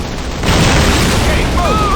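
In the 2003 Call of Duty game, explosives detonate against a Flak Panzer: a loud, broad boom erupts about halfway through and leaves a rumbling tail, with a faint whistle-like tone near the end.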